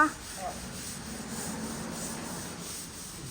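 Steady rasping abrasion of sanding a freshly plastered wall, a continuous soft scratchy rub heard close and fairly quiet, with no talking.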